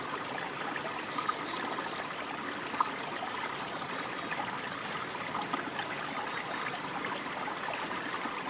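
Soft, continuous trickling and dribbling of water as mallards dabble on a pond, water dripping from their bills, steady and close, with faint small splashes and no voices.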